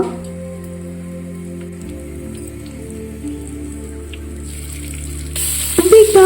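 Curry leaves drop into hot coconut oil in a pan, giving a steady crackling sizzle that sharpens into loud spattering pops near the end. A low hum runs underneath.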